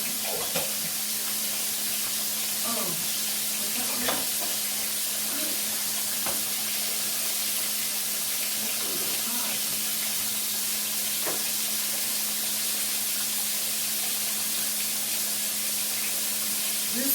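Potatoes fry in a little oil, giving a constant soft sizzle with a few scattered knocks and stirring clicks, close and unbroken, with no talking.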